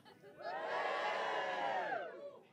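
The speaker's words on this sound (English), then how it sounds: "Give me a cheer if you're in a relationship." Comedy club audience cheering on cue, a swelling collective shout and whoop from the crowd that rises quickly, holds for about a second and a half, then dies away.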